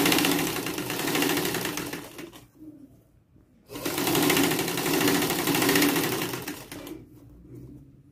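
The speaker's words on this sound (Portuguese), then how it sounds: "Costurar alinhando bem a parte de cima com a parte de baixo." A sewing machine stitching a fabric strip for a dish towel runs in two close, steady bursts of rapid mechanical whirring, separated by a short pause.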